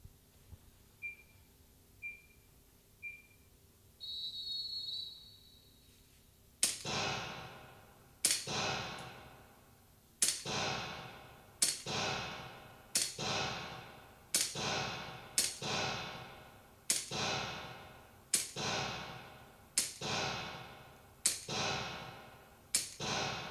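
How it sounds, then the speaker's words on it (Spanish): A series of sharp shots from a CO2 simulation pistol, about a dozen evenly spaced snaps each with a brief ringing decay, preceded by a few quiet electronic beeps. "en este caso el tirador efectuó 17 disparos"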